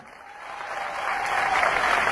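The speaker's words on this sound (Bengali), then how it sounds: "ভাইদের জন্য জোরে একটা হাততালি" Dense clapping from an indoor crowd swells steadily into a loud, sustained wash of applause, with no voices over it.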